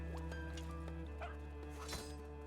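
A dog gives a few short, yipping barks and whimpers at moderate distance over a steady background hum, with no speech.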